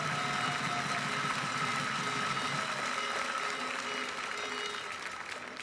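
Sustained audience applause fills a large hall at the Bocuse d'Or 2019 awards ceremony, honoring the Winners Academy; the dense clapping holds steady, then eases slightly toward the end, with a faint tonal hum underneath.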